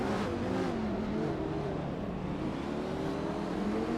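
Lamborghini Sesto Elemento and Aventador SVJ race cars roar through a video game race, a dense continuous engine drone with rising and falling pitch, loud and steady throughout, no speech.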